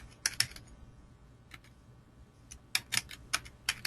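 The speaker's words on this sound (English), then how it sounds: "I would scan in or type in the kit label." Computer keyboard keys tapped in short clustered bursts while a kit label is entered, crisp close clicks separated by brief pauses, quiet and without talk.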